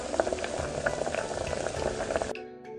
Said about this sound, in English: Bubbling in hot water are the longest noodles Auntie Wiley could find to eat for a long, long life